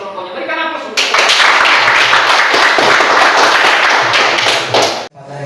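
Audience applause breaks out after a student group is invited to present in a classroom, loud sustained clapping from many hands lasting about four seconds before stopping abruptly.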